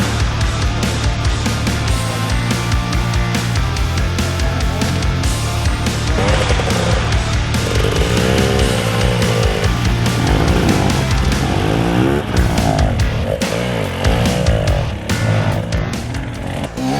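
Enduro motorcycles racing at Red Bull Romaniacs 2021, engines revving hard and continuously with rising and falling whines, loud and close throughout, a dense layered roar with no pauses.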